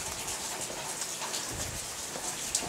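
Steady rain falls hard in a mountain setting, a continuous dense hiss of drops on surfaces with no pauses throughout.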